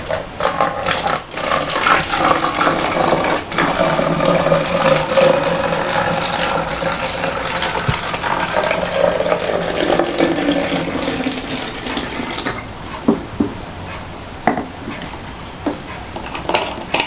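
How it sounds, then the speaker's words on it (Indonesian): Water poured into a bottle during a school science demonstration, a steady liquid rush and splash running continuously for most of the stretch, then thinning to a few scattered trickles and drips near the end; no talking. "Langkah yang kedua yaitu tuangkan air ke dalam botol."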